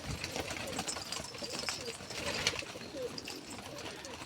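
Soft, low pigeon coos repeating close by amid a faint mechanical hum and rustling background.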